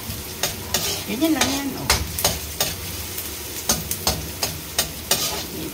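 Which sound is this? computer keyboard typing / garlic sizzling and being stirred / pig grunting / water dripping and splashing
garlic sizzling and being stirred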